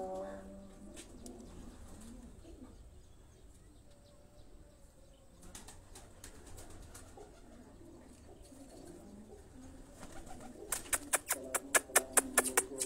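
Domestic pigeons coo softly and low, close by, with scattered rustling and a burst of sharp wing flapping near the end.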